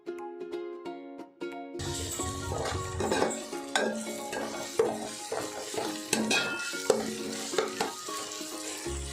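Ginger garlic paste fries in oil for chicken kheema biryani, a strong sizzle with a spoon stirring and scraping the pan in repeated strokes after a brief tonal sound at the start.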